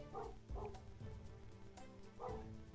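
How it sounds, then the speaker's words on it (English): Several dogs bark at night at 10 o'clock, sounding fairly distant and muffled, with repeated yipping and barking bursts over a steady hum. "God damn it, dogs."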